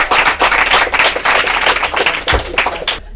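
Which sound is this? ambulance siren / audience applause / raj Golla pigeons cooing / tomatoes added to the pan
audience applause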